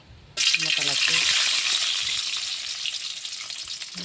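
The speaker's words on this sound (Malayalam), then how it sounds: "ഞാൻ കടുക് താളിക്കാനാണ് പോകുന്നത് ആവശ്യത്തിന് എണ്ണ ഒഴിച്ചിട്ടുണ്ട് അതിലോട്ട് കുറച്ച് ഉള്ളി" Mustard seeds and onion hit hot oil for a tempering, bursting into a sudden loud, broad sizzle that stays steady and slowly eases, with faint clinks and brief background voices.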